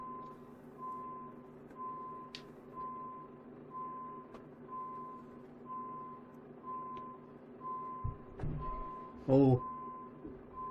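A truck's reversing alarm in Euro Truck Simulator 2, a Volvo with trailer backing up: a steady string of evenly spaced beeps over a low engine hum, briefly joined by a short exclamation and a hiss of air brakes near the end.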